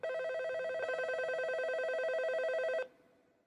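A telephone rings in a lab with a steady electronic trilling tone, loud and close, that continues unbroken for almost three seconds and then cuts off abruptly, with no voices.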